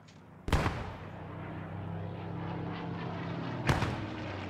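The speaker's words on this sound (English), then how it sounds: "Friendly strafing run coming north to south in forest." A friendly aircraft strafing run over a forest in the WWII game Post Scriptum: two sharp, loud bursts of fire a few seconds apart over a steady droning engine hum.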